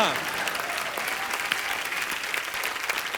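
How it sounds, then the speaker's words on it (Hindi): A studio audience on a comedy show breaks into loud, sustained applause, steady and dense throughout, with some voices and cheers mixed in. "जोरदार तालियां।"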